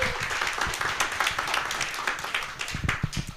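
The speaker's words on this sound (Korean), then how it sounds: "우리 환영의 박수를 함께 해주시기 바랍니다" A Korean church audience applauds to welcome a pastor, steady moderate clapping from many hands in a hall, with some faint voices.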